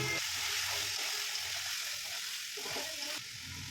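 Chopped onions hiss in a pan with chicken pieces for a Pakistani-style chicken curry, a soft steady sizzle with faint stirring and a slight dip in level partway through.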